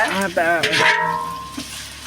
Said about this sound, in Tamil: வெங்காயத்தை நல்லா பொன்னிறமாக வதக்கிக்கலாம்